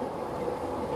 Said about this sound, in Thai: ขบวน8ค่ะเข้ามาจากเชียงใหม่ขบวนพิเศษกำลังจะเข้าไปกรุงเทพอภิวัฒน์ค่ะแต่ตอนนี้เข้าสถานีดอนเมืองค่ะ